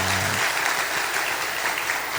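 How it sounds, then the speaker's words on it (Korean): A church congregation at Sunday worship bursts into dense, even applause, a loud continuous roar of many hands clapping that holds steady throughout with no voices over it. "다시 한번 우리 감사에 또 환영의 의미로 박수 한번 쳤으면 좋겠습니다"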